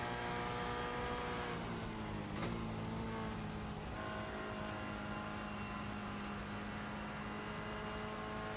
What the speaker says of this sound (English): Let's hear him towards Eau Rouge then and see what that throttle input is like up Eau Rouge.